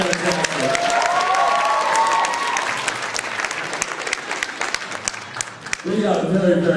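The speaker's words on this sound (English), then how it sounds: "Give yourself a round of applause." Loud audience clapping with some cheering at an anime convention dating auction, a thick wash of hands that swells, then thins as a voice speaks briefly over it near the end.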